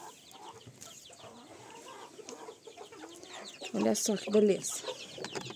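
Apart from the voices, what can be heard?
broody hen clucking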